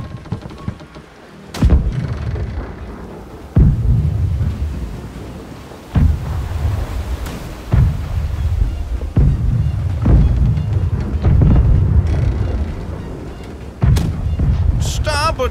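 Ship cannons in the naval battle game Blackwake fire in a series of heavy, booming blasts, roughly seven loud shots spaced a second or two apart, each leaving a rumbling tail, with crew voices calling out between them.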